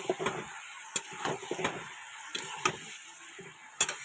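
A non-vegetarian dish with ginger paste cooks in a pan: quiet sizzle broken by intermittent clicks and scrapes of stirring, sharp taps scattered irregularly, close by, no voices.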